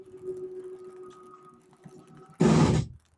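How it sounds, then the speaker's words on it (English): A 2015 Coachmen Catalina 333BHKS camper slide-out nears the end of its travel: a faint motor hum runs for about two seconds, then a loud, short burst of clicking rattles for roughly half a second before stopping. "So just as it's about to hit the end, you'll hear that clicking sound."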